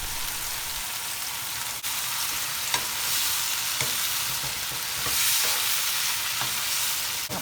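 Chopped cabbage stir-frying in a pan for spicy chicken fried rice: loud, dense, continuous sizzling with hissing swells as the pan is tossed, plus a few sharp scrapes and clinks, close and with no talking.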